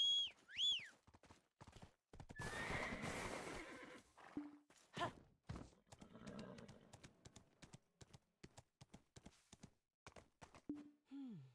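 A horse in Black Desert Online neighs and whinnies several times, with clip-clop hoofbeats and other game effects in between. The calls come in bursts, loud and close.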